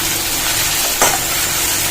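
Chili powder, turmeric, salt and ginger-garlic paste sizzling steadily in hot oil in a pan, a close, continuous frying hiss with a brief louder spurt midway.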